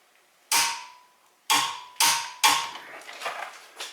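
A torque wrench clicks sharply several times while a Subaru Legacy GT front brake caliper bolt is tightened, with four loud distinct snaps followed by softer ratcheting clicks, close up with no talking.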